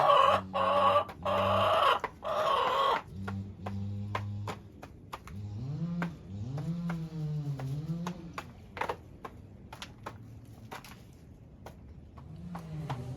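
Silkie hens and chicks cluck with a rooster in a backyard coop, giving a run of close, loud clucks that give way to rising, drawn-out calls and softer scattered peeps, with no voices over them.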